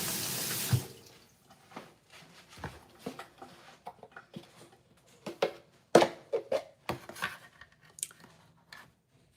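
Kitchen tap running as a knife is rinsed at a sink, with a burst of water splashing early on followed by intermittent clatters, taps and handling sounds close by, no talking.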